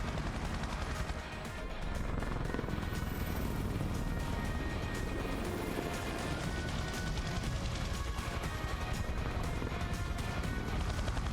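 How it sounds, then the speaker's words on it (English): A helicopter in a Yakuza video game, a dense, loud, steady rotor roar filling the whole stretch, with a rapid chopping texture and possible gunfire mixed in. "Oh boy, that's a helicopter."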